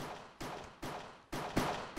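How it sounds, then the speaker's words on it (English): Gunfire in the Minecraft Cops and Crims minigame, four evenly spaced, fairly faint blasts, each a sharp crack that decays into a rumbling tail, with no talk. "I hear gunshots."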